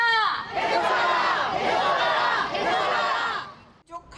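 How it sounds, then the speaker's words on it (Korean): Members of about a hundred patient advocacy groups shout together at an outdoor rally under hot sun, a loud sustained chorus of raised voices with rhythmic swells that cuts off abruptly near the end. "102개 환자단체 회원들이 뜨거운 햇볕 아래 모여 함성을 지릅니다"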